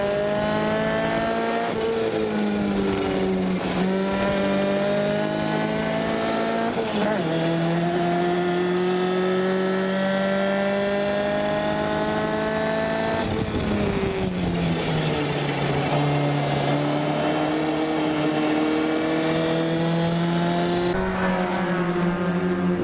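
Lotus Challenge Class L race cars lap Zwartkops Raceway on the final lap of a race. A loud, close engine note rises and falls continuously through gear changes as the cars accelerate and brake.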